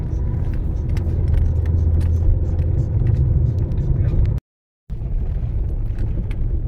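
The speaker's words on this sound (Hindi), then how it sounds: "यहाँ गाड़ी 15-20 की स्पीड में चल रही है शायद" A car crawls at low speed over a badly broken, rain-damaged road toward Manali in Himachal, its steady engine rumble and road noise filling the cabin, with a brief cut to silence partway through.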